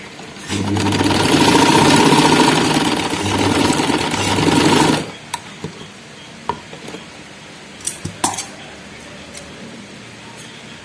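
Sewing machine stitching elastic onto a frock, running loudly and steadily for about five seconds, then stopping, followed by scattered handling clicks and taps.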